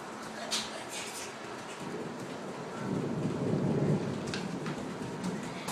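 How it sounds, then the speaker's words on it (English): A June thunderstorm with rain makes a steady patter and hiss, with thunder rumbling low and swelling midway, heard from nearby and fairly soft overall. "Here comes the rain."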